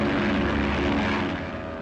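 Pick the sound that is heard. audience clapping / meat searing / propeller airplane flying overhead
propeller airplane flying overhead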